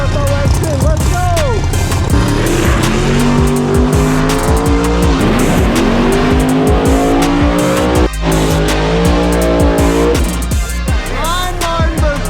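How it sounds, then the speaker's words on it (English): Drag race between a nitrous big block Camaro and a big block turbo car, loud roaring engines with tire squeal and revving at close range, with a voice talking over the noise. "Nitrous Big Block Camaro going against Jason Cantu, Big Block Swing Turbo X10"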